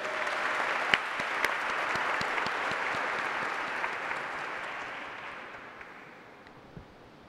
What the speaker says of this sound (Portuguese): E uma salva de palmas para esse evento maravilhoso.